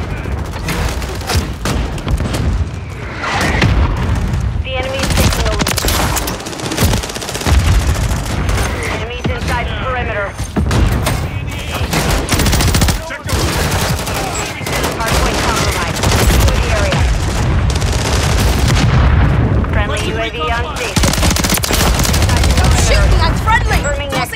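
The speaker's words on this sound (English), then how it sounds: "Friendly mortar strike inbound" Dense gunfire and booming mortar-strike explosions in Modern Warfare 3 multiplayer on the Das Haus map, loud and near, with rapid automatic bursts and repeated blasts throughout, under radio-style game voice callouts.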